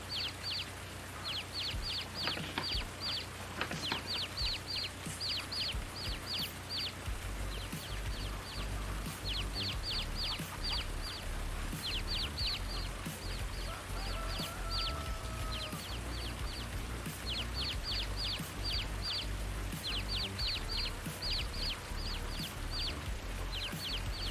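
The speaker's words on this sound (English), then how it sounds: "I hear little chickens" Chicks cluck and peep in Farming Simulator's Hof Bergmann map, with rapid repeated chirps over a steady low farm hum and engine drone, continuous throughout with no talk.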